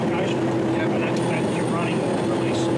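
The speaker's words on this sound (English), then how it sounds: "It's one of the most beautiful engines, diesel electric." A diesel-electric 800 locomotive engine runs with a loud, steady droning rumble and a constant tonal hum, while someone talks over it.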